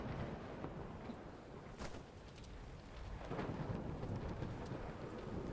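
Rain and rolling thunder from the video game Jenny LeClue: a steady downpour hiss with a sharp crack of thunder, then a low rumble swelling, with no voices.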